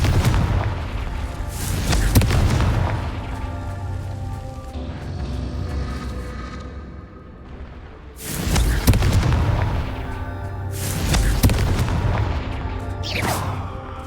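The explosive Confringo spell is cast in the Hogwarts Legacy video game, producing heavy booming blasts with crackling debris, one early and a rapid cluster later, over a constant rumbling game soundscape.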